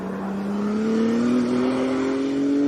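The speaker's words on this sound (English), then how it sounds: "that singular car you're hearing is the sound of Mario Andretti driving a two-seater car" A two-seater race car driven by Mario Andretti roars past with a steady, loud engine drone that climbs slowly in pitch, one car alone with no other traffic.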